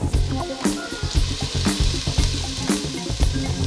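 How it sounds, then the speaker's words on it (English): Onions sauteing in oil in a pan, a close, steady sizzle and crackle with scattered stirring clatters, no voices. "I'm going to saute that in my oil"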